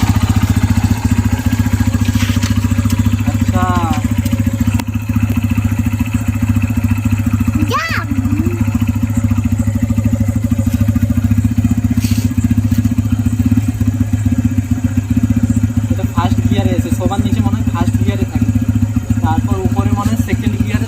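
A motorcycle engine runs steadily during a ride, a loud continuous low drone that lasts the whole stretch, while people talk now and then over the rumble.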